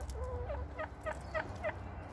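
Backyard chickens give a short series of soft, quiet clucking calls, about five evenly spaced notes, heard fairly faint over a low background hum.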